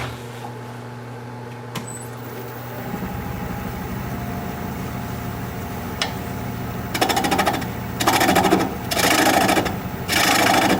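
Wood lathe spinning a small sycamore bowl blank while a tenon is turned, a steady motor hum with a low tonal drone, then louder bursts of gouge cutting and scraping in the last few seconds.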